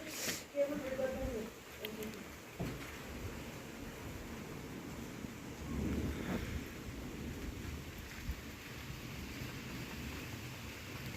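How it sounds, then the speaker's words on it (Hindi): Stormy evening wind blows outdoors in Pithoragarh, a continuous broadband rush with gusts that swell and fade, close to the microphone, with a voice briefly audible under it. "तूफान आ रहा है,"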